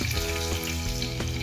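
Cumin, garlic and mustard seeds sizzling in hot oil for a Marathi brinjal dish, a close, continuous crackling fry with no voices.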